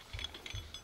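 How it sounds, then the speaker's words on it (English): Earrings clink lightly with a few small metallic jingles in quick succession, close and soft, with no talking. "Can you guys hear my earrings?"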